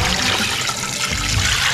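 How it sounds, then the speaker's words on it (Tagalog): Water poured from a container into a cooking pot for pork sinigang after the pork cubes, a continuous close rushing splash, loud and unbroken throughout, with no talk over it. "Tapos lalagyan na natin ng tubig."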